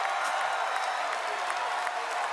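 A crowd of about 2,000 people at a Star Wars Day celebration applauds and cheers in a dense, steady wash of clapping heard from a distance.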